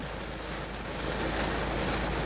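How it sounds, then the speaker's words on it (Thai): Heavy rain pours down during a fish-trapping outing, making a dense, steady hiss that swells slightly louder toward the end, with no voices. "เราไปดูลองดูบรรยากาศฝนตกดูนะครับ"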